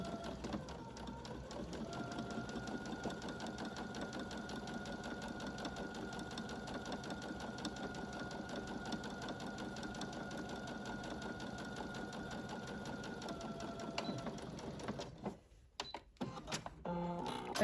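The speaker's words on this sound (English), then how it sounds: "I'll do some back stitches across the V to secure that, so it can hold any tension on there" A sewing machine back-stitches across the V-neck of a scrub top, its steady, close mechanical whirring running continuously for about fourteen seconds before stopping, followed by a few brief clicks and handling sounds.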